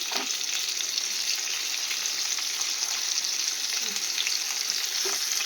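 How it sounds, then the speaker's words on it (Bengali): Pointed gourd pieces fry in hot oil with a steady, loud, even sizzle and a few faint utensil touches, with no voices. "তো পটলটা ভেজে নেবো"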